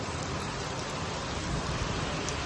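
Heavy rain pours steadily over a village, a dense, even wash of falling water with no voices, continuous and close throughout.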